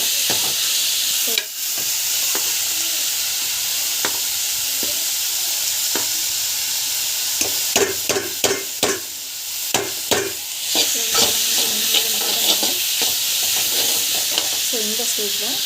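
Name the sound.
frying and stirring rice dish in a pot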